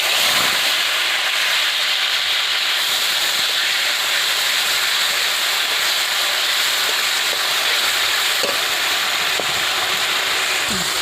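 Ground paste of onion, garlic, ginger, tomato and dried chilli sizzling in a pan for a balsam pear curry, a continuous hissing steam-like sizzle with a few faint clinks.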